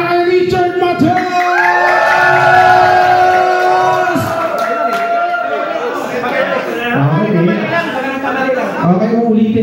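Crowd at a Thanksgiving party in the Philippines shouting, whooping and cheering loudly, with sustained yells early on breaking into mixed voices and chatter.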